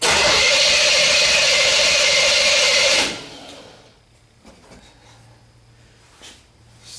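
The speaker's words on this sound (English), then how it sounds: "as I crank the engine" A 1976 Corvette restomod engine cranking without starting during troubleshooting of its fuel injection and ignition, a loud, steady whirring roar for about three seconds that cuts off abruptly, followed by quiet clicks and faint rustling.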